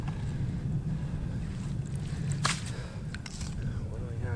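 Cold winter wind blows outdoors at a snowy campsite, a steady low rumble of gusts buffeting the microphone with a few brief rustling bursts.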